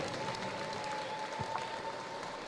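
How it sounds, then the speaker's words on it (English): Crowd at the Galveston Island Convention Center applauding boxers in the ring, a faint, distant, steady wash of clapping under the hall's ambient hum, with no clear voices. "how about a round of applause for both of these warriors here in the ring?"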